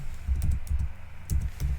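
HTML code is typed on a computer keyboard in a quick, close run of keystrokes with a brief gap partway through, and no voices.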